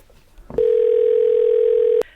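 A telephone tone sounds during an outgoing call: a single steady beep-like tone held for about a second and a half, clear and close, after a brief click and low background noise.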